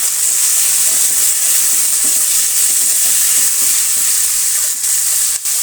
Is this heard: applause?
no